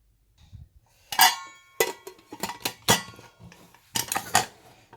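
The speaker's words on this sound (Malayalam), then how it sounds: "കുക്കർ അടച്ചു ഇനി നമുക്കിത് വേവിക്കാൻ വയ്ക്കാം" Metal clanks and clinks of a pressure cooker lid being fitted and shut in a home kitchen while cooking chicken shawaya, several sharp impacts in irregular bursts, close and fairly loud, no talking.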